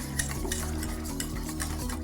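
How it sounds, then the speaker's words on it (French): Cold raspberry purée being whisked for a ganache, giving a steady run of soft scraping strokes in a bowl, close and continuous, with a low hum underneath and no voices. "On mélange au fouet."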